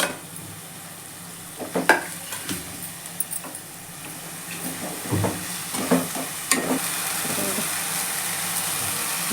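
Tomatoes for beetroot rice fry and sizzle in a pan while a spoon stirs them, giving a steady hiss with scattered scraping clinks and soft knocks, close and alone with no talk.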